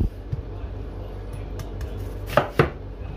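Knife slicing an onion into thick slices for a burger, two sharp close cuts against a board late on after quieter handling sounds, with no talk.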